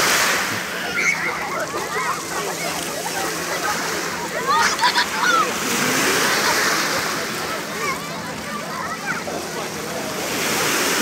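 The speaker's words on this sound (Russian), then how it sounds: "Небольшие волны." Small Black Sea waves wash and splash steadily against a beach shore at Lazarevskoye, a broad rushing hiss with gentle surges, while a person talks over it.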